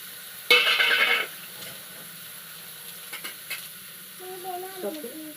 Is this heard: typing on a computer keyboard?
no